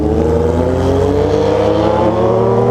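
A Honda Hornet motorcycle fitted with a new exhaust revs loudly and close by, its deep engine tone rising steadily in pitch as it climbs, with no talking over it.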